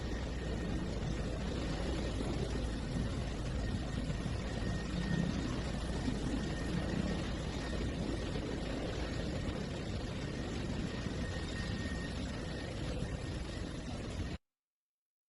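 A helicopter in flight, a steady broadband rotor and engine roar holding at even loudness throughout, with no voices over it.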